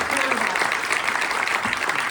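Audience applause for the panelists at a Q&A after a Don Dohler double feature screening, steady dense clapping filling the room throughout without a break.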